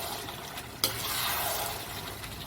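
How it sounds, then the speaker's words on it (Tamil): Chicken gravy masala being sautéed in a pan gives a soft sizzle with a sharp scrape of stirring near the start, fairly quiet and without talk. "பாருங்க, நல்லா வதங்கிடுச்சு. இது இன்னும் நல்லா வதக்கணும்."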